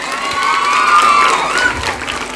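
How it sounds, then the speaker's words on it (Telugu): Students at a youth event clap for a teacher, a loud crowd of clapping mixed with children's shouts and cheers that swells and then eases slightly. "వెంటయ్య సార్కు చప్పట్లు కొట్టుండమ్మా."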